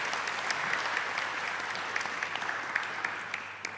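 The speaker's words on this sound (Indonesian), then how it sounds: "Kita beri aplaus dulu ke Pak Lo." An audience claps for Pak Lo at a live Q&A event, steady mid-distance applause with scattered sharp individual claps, lasting several seconds without speech.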